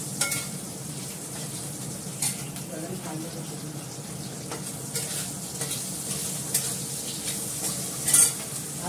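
Food lightly frying in a pan, a soft steady sizzle with occasional stirring clatter and light knocks, fairly close and continuous.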